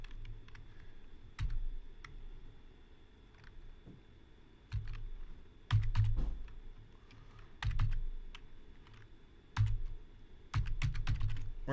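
Keys clatter on a computer keyboard in quick bursts of typing, interspersed with clicks and short pauses, close up over a low background hum, with no talk.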